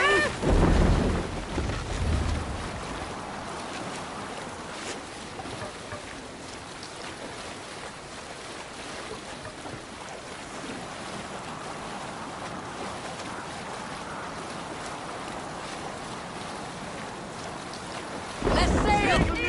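A Viking longship sails at sea in Assassin's Creed Valhalla, with a steady wash of wind and rushing waves throughout and louder gusts at the start and end.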